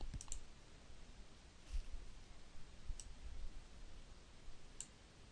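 Several faint, sharp mouse clicks spaced a second or more apart over a quiet room hum, with no talking.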